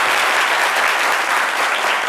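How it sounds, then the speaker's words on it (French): A television studio audience claps loudly and steadily throughout, a dense, continuous wash of applause with no break. "On applaudit très fort pour le raccompagner."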